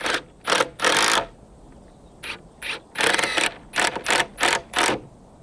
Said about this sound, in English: That way the timber's not going to split when I put the screws in.